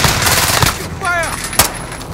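Loud gunfire in Call of Duty: Modern Warfare comes as a rapid burst and then a sharp single shot, close and punchy amid game noise.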